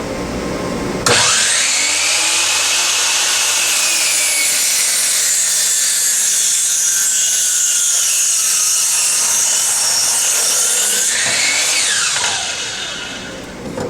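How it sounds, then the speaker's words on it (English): A chop saw fitted with a framing blade whines up and bites through a PVC paver in one long, loud, continuous cut lasting about ten seconds, then spins down. "When cutting AZEK VAST pavers, you can use a traditional chop saw with a framing blade."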